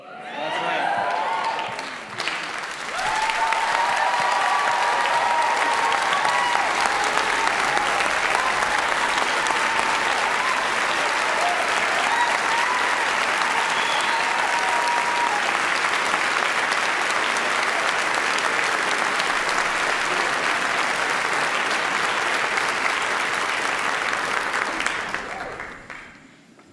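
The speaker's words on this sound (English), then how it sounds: "One more round of applause, please" A large audience at a city council inaugural ceremony breaks into long, loud applause that swells quickly and holds steady for over twenty seconds before tapering off, with faint voices near the start.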